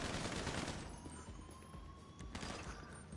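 Gunfire in the video game GTA 5, a quiet barrage of rapid overlapping shots that thins out and then returns in a second burst, heard at low volume.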